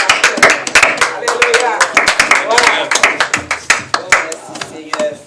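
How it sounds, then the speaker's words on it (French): A church congregation at an evangelical worship service claps in rhythmic bursts of sharp, fairly close hand claps, with a voice calling out over the applause. "On applaudit la parole de Dieu."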